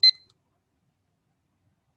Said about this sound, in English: Sorry for the beeps.